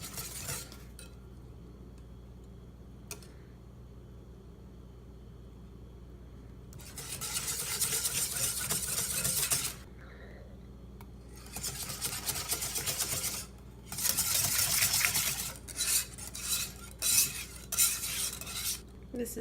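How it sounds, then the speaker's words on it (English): Egg yolks being whisked into Japanese cheesecake batter in a bowl, with long bursts of rapid scraping and clattering strokes separated by quiet pauses, close up with no talking. "You're going to add your egg yolks in one at a time, whisking in between, getting it as smooth as you can."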